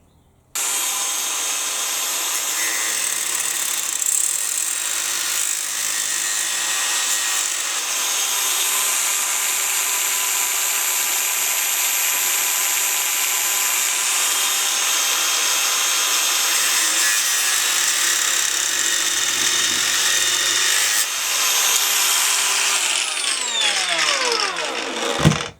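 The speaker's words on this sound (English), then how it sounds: "I think I'm just going to do it old school with a bloody angle grinder." Angle grinder cutting through metal, one long continuous harsh grinding whine that runs steadily for over twenty seconds close to the mic, then winds down at the end, no talking.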